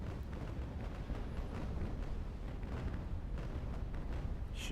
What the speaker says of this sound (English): we'll get a decent enough shot off with our starboard guns